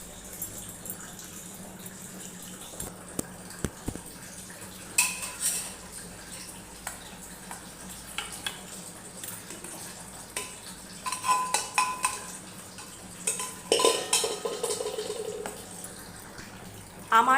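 Potato and pointed gourd curry scraped from a cooking pot into a serving dish, with intermittent clinks and scrapes of a spoon against metal and soft wet sloshing, some faint background sound.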